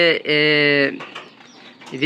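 A pet pigeon at a new loft gives a loud, close, drawn-out coo, then the sound falls away and a second call begins right at the end.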